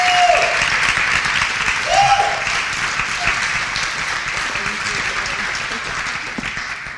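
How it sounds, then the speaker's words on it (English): An audience at an academic presentation applauds to welcome a speaker, sustained clapping that slowly fades, with brief speech from a voice over it. "Please join me with an applause"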